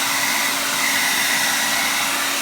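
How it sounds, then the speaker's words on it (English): A Revlon Turbo 1875-watt hair dryer blows steadily at close range, a loud constant whooshing roar with a faint hum beneath, with no one talking. "Never thought I'd be impressed by hair dryer"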